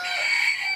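A rooster calling in a poultry quarantine pen housing sick birds and chicks, one short bright call heard close up and alone.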